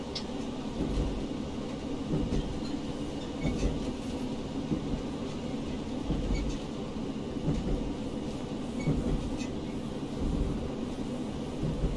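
A Class 153 diesel railcar in Train Simulator Classic rolls along the rails on the Dumfries to Stranraer Harbour line, a steady low rumble with faint clicks and rattles, fairly quiet and continuous.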